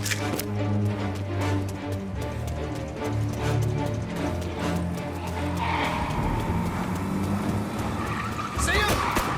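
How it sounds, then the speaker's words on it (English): A heavy truck engine in the video game Mafia: Definitive Edition rumbles steadily throughout, with mechanical clatter and a brief skidding squeal near the end, close and loud. "Truck's moving!"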